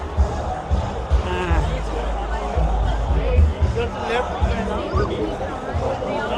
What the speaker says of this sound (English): Now we're going to go right into the crowd.